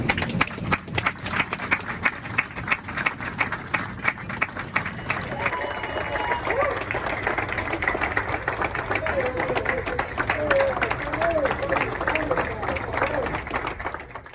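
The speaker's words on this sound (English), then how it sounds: "So give yourselves a round of applause." Sustained applause from a large crowd fills the scene, with a loud public-address voice speaking over the clapping at an Honor Flight veterans' welcome event.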